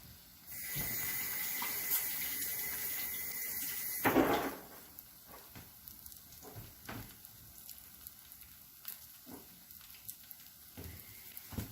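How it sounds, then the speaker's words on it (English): A tofu burger browning in a pan with a little coconut oil gives a steady, fairly quiet sizzle, with a louder clatter around the four-second mark and scattered small kitchen knocks afterward. "And I'm going to brown this up on both sides. I have a little bit of coconut oil in here."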